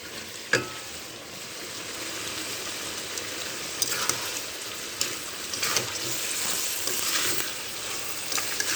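Fried fish going into a sizzling curry pan, a continuous crackling fry with stirring scrapes and a sharp clatter near the start, close and moderately loud, no voices.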